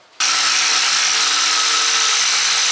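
A coarse Flexovit grinding wheel, roughly 16 grit, spins up abruptly and grinds scale off a ladder-pattern Damascus steel billet with a loud, steady, harsh whine close by.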